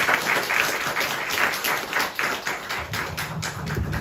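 A church congregation applauds steadily during a Korean Sunday service, dense clapping that fills the room and holds for several seconds at an even level.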